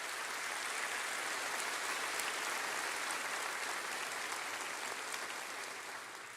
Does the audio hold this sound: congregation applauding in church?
yes